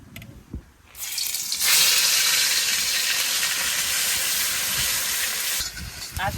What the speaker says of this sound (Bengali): এবার তেলটা গরম হয়ে গেছে পেঁয়াজটা দিয়ে দেবো আগে আগে পেঁয়াজটা ভেজে নেব